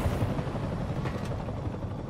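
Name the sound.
helicopter in the video game Marvel's Spider-Man Remastered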